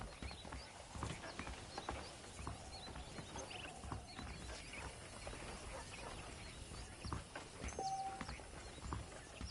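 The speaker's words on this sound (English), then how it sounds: "The horses are saddled up over here." Hooves clop at a steady walking pace beneath a busy ambient background, with faint snorting and rustling mixed in, in the video game Red Dead Redemption.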